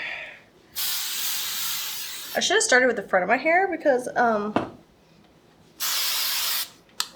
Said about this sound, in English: I'm gonna spray it with a little bit of hairspray